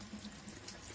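Water runs from the tap of a small instant electric water heater, a gentle, steady hiss of flow into a sink, quiet and close with no speech.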